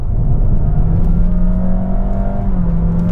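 Engine of a 2022 Honda HR-V accelerating out of a corner, a loud, steady droning hum held at constant revs with a faint whir and a slight pitch dip near the end, no speech.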